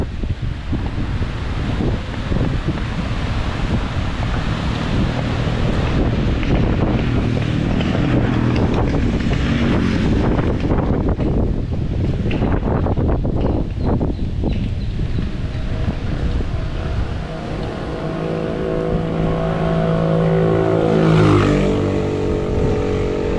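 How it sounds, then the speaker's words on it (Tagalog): Strong wind roars loudly and steadily across an outdoor ride near Sampaloc in Tagaytay, buffeting the microphone throughout with continuous rumbling gusts. A low, rising tonal hum appears near the end. "Hangin."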